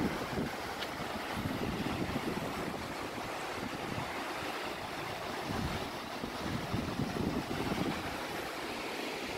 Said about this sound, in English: And this is the South Fork of the Kings River.